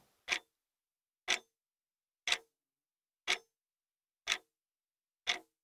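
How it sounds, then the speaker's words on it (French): Six evenly spaced ticks of a clock, one per second, crisp and clear against silence, with no voices. "Écoutez quelques instants le tic-tac qui vous accompagne pendant cette séance."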